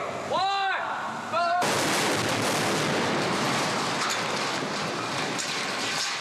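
A large explosion on the Transformers film set bursts loudly after a brief shouted voice, then its roar and falling debris rumble on for several seconds.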